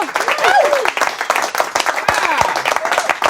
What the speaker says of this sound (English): No one told you to stop clapping